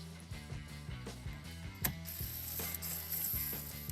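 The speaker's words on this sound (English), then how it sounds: "Using an impact gun with a 10mm socket, we will take out 2 screws one by one." An impact gun with a 10mm socket backs out taillight screws on a Nissan Rogue, giving a fairly faint, steady mechanical rattling and clicking that runs through the whole stretch.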